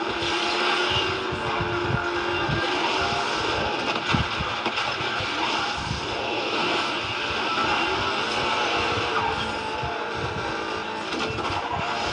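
A Ferrari race car in Asphalt 9 Legends, its engine droning steadily and close throughout, with a few faint surges and passing whooshes from other cars, and no talk.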